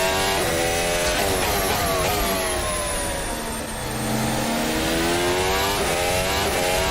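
A race car in a VR racing game brakes and downshifts, its loud engine note stepping down through gears and then rising again, a continuous close mechanical whine with no talking.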